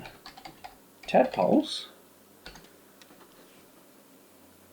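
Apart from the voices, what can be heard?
typing a search into Google on a computer keyboard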